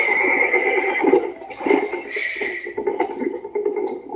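A horse neighs and whinnies in Red Dead Redemption 2, loud and close, with a few shorter snorts and whinnies following over faint background game sounds.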